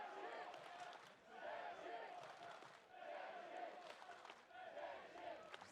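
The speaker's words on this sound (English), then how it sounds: "some strong chanting there from the Czech crowd" A Czech crowd in a grandstand chants loudly in rhythmic, repeated waves at a medieval combat tournament, Germany versus Czech, with clapping mixed into the swelling and fading chant cycles.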